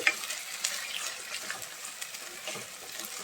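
Gongura chicken fries in a pan with a steady, moderately loud sizzle and bubbling, dotted with small pops and light stirring scrapes, and no voices present.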